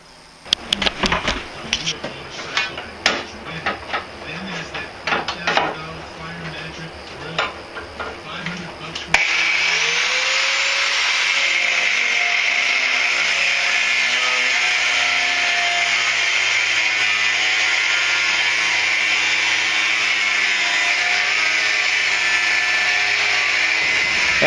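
A power tool cuts steel knife blanks: first scattered sharp clatter and taps, then a steady, loud high-pitched whine of cutting that runs unbroken to the end, close by.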